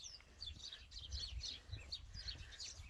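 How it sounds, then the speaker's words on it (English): Small birds chatter in the bushes outdoors at the end of January, with quick, overlapping high chirps repeating continuously at a fairly faint distance and no talking. "listen to the birds again as they're all chattering away in the bushes"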